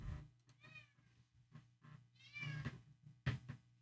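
A pet cat meows repeatedly indoors, several drawn-out cries spread through the clip, fairly close, with low room hum beneath.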